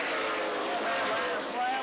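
NASCAR stock cars roaring through turn 4 at La Crosse Speedway during the Re/Max 200, a loud continuous engine drone at a distance, with commentary running over it.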